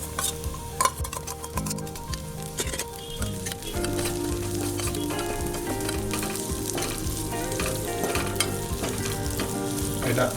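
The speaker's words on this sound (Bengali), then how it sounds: "এটা আমি 1 মিনিটের মতন ভাজবো। আর 1 মিনিট পেঁয়াজ।" Onions sizzle steadily in a pan for chilli paneer, a dense constant frying hiss with clinks and scrapes of a spatula, close and without talk.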